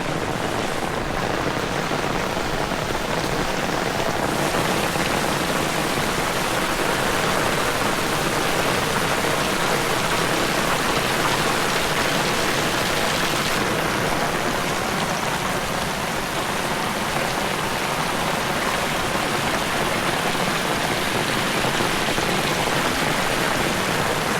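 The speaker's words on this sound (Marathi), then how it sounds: "पाऊस बघा जोरात लागतोय" Heavy monsoon rain pours down in Konkan during flooding, a dense unbroken hiss of downpour on surfaces, loud and steady from start to finish with no voices.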